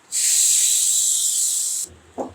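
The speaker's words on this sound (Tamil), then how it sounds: "அரைச்ச தேங்காய் இதில் சேர்த்துடலாம்." Ground coconut paste tipped into hot oil already seasoned with sambar powder while making moong dal sambar, giving a loud, steady hiss for about two seconds that stops sharply, then a short soft clatter.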